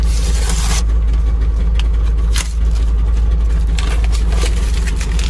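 A Trabant 601 car idles close by with a deep, steady low rumble and a buzzy mechanical rattle, holding constant apart from a brief dip, with a few soft clicks and no talk.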